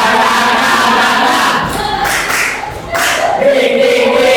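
A group of people in a classroom setting doing a rhythmic spirit clap chant, loud shouted voices blending with clapping in a continuous burst close by, with a brief dip midway before the chanting surges again.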